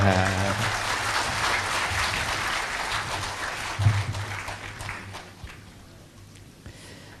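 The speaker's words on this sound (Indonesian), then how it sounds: "Sebuah kebersamaan, kita berikan aplaus yang meriah" An audience at a regency musyawarah gathering with the Bojonegoro regent claps in sustained applause that gradually fades toward the end, with a low voice or hum underneath at the start.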